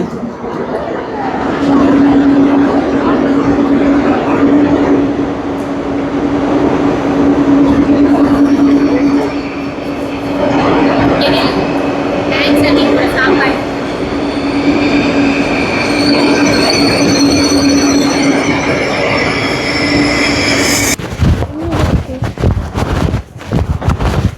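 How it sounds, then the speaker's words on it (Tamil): A train rumbles loudly into a station in Germany with a sustained wheel squeal and metallic screeching, then clanks and rattles as it slows near the end. "நாங்கள் ஏற வேண்டிய ட்ரெயின் வந்துன்னு இருக்குது"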